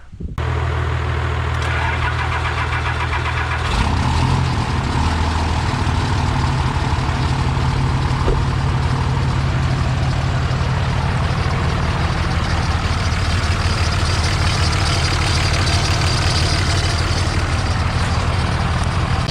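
A Cummins diesel engine in a 2002-2009 Dodge truck idles loudly and steadily, with a thin whine from a failing alternator running over the rumble throughout.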